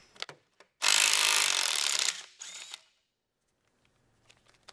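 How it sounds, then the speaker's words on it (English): A tool with a deep 11mm socket works the clamp nut on a 6.0 turbo, giving a loud rasping burst of just over a second, a shorter burst after it, then scattered faint clicks. "So just use a deep 11mm socket. You can use a little impact. You can use a ratchet if you want."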